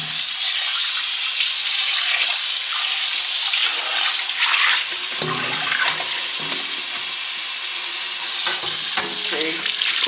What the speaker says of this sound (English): pour off the water and then give them a really good rinse again